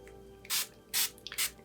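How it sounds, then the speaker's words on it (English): Water misted from a spray bottle onto a gouache paint palette: three short, crisp hissing bursts close by, evenly spaced with quiet gaps between, and no talking. "I'm just gonna spray the palette"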